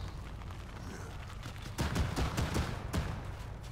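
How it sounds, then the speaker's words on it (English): Arma 3 gunfire, a cluster of sharp shots and rapid bursts breaking out in the middle distance over a low background rumble, no talk. "Oh, at last, they opened fire."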